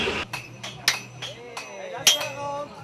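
A blacksmith's hammer strikes hot metal several times at uneven intervals during forging at a blacksmiths' festival, each blow sharp and ringing, while people talk in the background.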